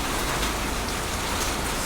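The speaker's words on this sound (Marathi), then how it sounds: "दूरवर पडलेला हा जोरदार पाऊस संभाजीनगरमध्ये" Heavy unseasonal rain pours in Chhatrapati Sambhajinagar as a dense, unbroken hiss of downpour, loud and steady throughout the short stretch.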